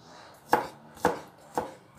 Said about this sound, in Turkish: Birkaç dişte sarımsak doğrayacağım.